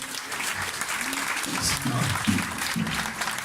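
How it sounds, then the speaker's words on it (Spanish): A church congregation at a Spanish-language sermon claps together in a sustained wash of applause, while a voice briefly speaks beneath it. "Denle un aplauso."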